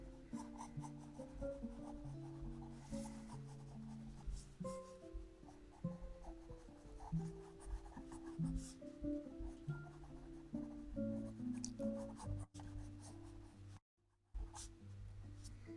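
Pencil sketching roosters on paper, with steady scratchy strokes and rubbing that come in short irregular bursts, close and fairly quiet, with a brief pause near the end.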